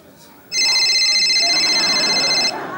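A dropped mobile phone rings in a loud, steady electronic trill that starts abruptly, holds for about two seconds and then cuts off, with faint background noise behind it.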